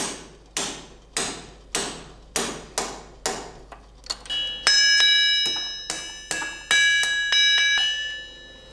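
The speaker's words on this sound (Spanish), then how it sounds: "los agujeros se hacían a golpe de puntero sobre el hierro en caliente." Sharp metal-on-metal hammer strikes on a punch driven into hot iron at a forge fall in a steady rhythm, about two per second; later blows ring out with a bright, bell-like sustain.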